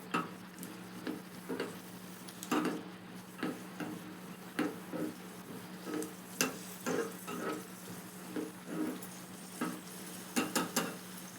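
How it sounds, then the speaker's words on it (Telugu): Dry fruits and raisins fry in ghee with a faint sizzle, punctuated by a steady series of light spoon scrapes and taps against the pan. "డ్రై ఫ్రూట్స్ కూడా ఫ్రై చేసి వేసేసుకున్నానండి."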